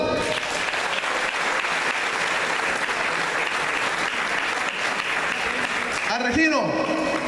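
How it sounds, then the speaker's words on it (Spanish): An audience in a church applauds, a dense steady wash of clapping that carries through, with a voice speaking over it near the end. "Dale un aplauso."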